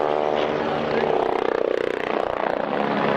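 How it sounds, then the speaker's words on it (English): Westland Scout army anti-tank helicopter making a wingover at a 1998 Army Air Corps airshow, its rotor thudding in a rhythmic pulse that grows louder as it swings closer, with a commentator talking over it. "The Scout coming in for a wing over, flown by Pete Arger."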